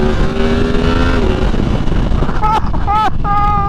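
A Yamaha MT-10 SP motorcycle accelerates hard through a wheelie on the road, its engine rising in pitch under heavy wind buffeting, with sharp tonal shifts near the end as it revs.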